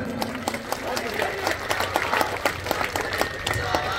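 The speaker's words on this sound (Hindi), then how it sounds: "जोरदार तालियां, समर्थन" Crowd at an outdoor Hindi political rally for a candidate claps in a loose, uneven burst, close and fairly loud, with voices mixed into the clapping.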